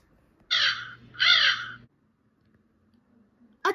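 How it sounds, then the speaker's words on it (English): A crow caws twice, loud and close, with harsh, raspy calls spaced about a second apart, then near silence and a short clipped sound at the end. "A crow goes."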